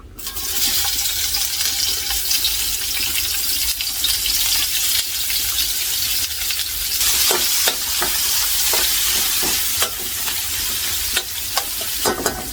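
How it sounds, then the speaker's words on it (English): Onions sizzle steadily in hot oil for a catfish curry, with scraping stirs and clinks punctuating the crackle throughout. "roast some onion here now"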